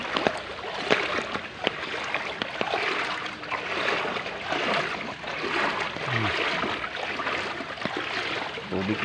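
Floodwater rushing after heavy rain across a road too deep for vehicles, a continuous close wash of flowing, splashing water with occasional knocks and faint voices in the background.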